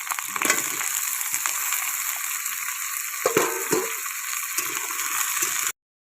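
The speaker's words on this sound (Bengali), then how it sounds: "পেঁয়াজটাও ভাজা হয়ে যাবে, আলুটাও সঙ্গে ভাজা হয়ে যাবে" Potatoes and onions fry in a hot pan with a steady, close hiss and sizzle, broken by a few stirring scrapes and knocks along the way.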